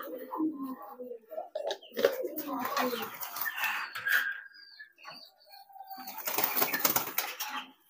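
Pigeons brooding eggs coo in low, throaty bursts, close by, mixed with fluttering wings and a flurry of bird calls.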